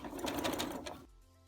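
A sewing machine stitches the edge of kimono fabric in a close, steady whirring run that stops abruptly just over a second in, leaving a faint hum.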